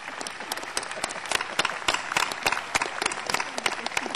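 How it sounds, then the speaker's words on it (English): Graduation audience at Vassar College applauding, a close, lively round of sharp individual claps with distinct hand strikes, steady and fairly loud throughout. "give them a big, big, big round of applause."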